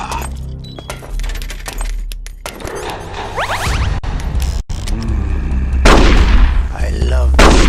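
Gunfire during a boss battle with Revolver Ocelot in Metal Gear Solid: The Twin Snakes, loud sharp shots and metallic clatter in bursts amid busy game effects, with no talk.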